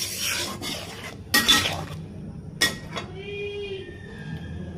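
Turmeric, chili powder and salt being stirred into a hilsa fish curry in a pan, a few distinct scraping and clinking strokes of a utensil on the metal, close by with a faint tonal ring between strokes.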